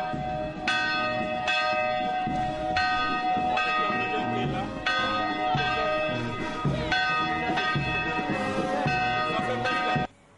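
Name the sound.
church bell ringing, Sainte-Thérèse de l'Enfant Jésus church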